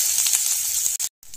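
Whole cumin seeds crackle and sizzle in hot ghee, a steady bright hiss with faint pops that cuts out briefly near the end.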